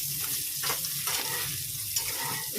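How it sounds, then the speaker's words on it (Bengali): Cauliflower pieces frying in hot oil with turmeric, a continuous broad sizzle with faint stirring and shifting underneath, close and steady throughout, no voices. "ফুলকপিটা ভাজতে বসে দিয়েছি নীল হলুদ দিয়ে আর একটু লাল লাল করে ফুলকপিটা ভেজে নিই"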